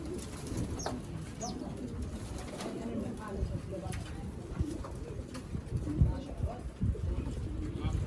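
Pigeons coo softly in a loft in a steady low murmur, with people talking quietly throughout.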